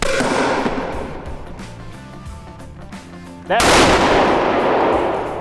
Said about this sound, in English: Let's see if we can make the cardboard explode.